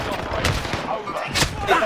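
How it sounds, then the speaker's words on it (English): Cluster strike explosions in a video game land as a rapid burst of booms and crackling blasts, several sharp bangs in quick succession, loud and close, with game chatter mixed in. "Allied cluster strike arriving."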